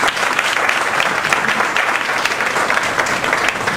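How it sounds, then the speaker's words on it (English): Loud, dense audience applause for a presenter at a talk event, continuous clapping from a sizeable crowd throughout. "let's give him a big round of applause"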